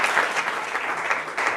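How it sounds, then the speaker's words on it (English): An audience at an academic economics talk welcomes a speaker with steady applause, a dense even wash of clapping hands, close and moderately loud, with no one speaking. "Please welcome him with a big round of applause."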